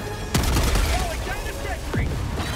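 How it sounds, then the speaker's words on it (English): Mortar strikes and gunfire in the Helldivers 2 video game, with dense crackling shots and a couple of sharp booming impacts over a busy battlefield, voices faintly mixed in. "Mortar in right now"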